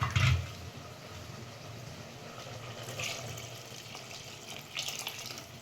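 Water is measured out with a glass into a cooker pot of rice for pulao, giving a soft, continuous trickling and splashing with a slightly louder gush at the start and small surges later.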